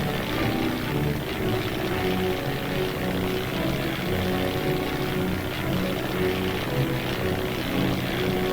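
Military reconnaissance propeller aircraft flying during an armored cavalry mobile defense exercise, a continuous loud droning engine roar with no talk over it.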